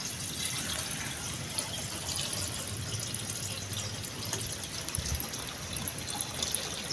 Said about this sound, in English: It is now my turn to put the water for boiling the pumpkin leaves.